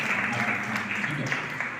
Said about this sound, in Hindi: एक बार फिर से आप लोग अपने लिए ताली मार दें।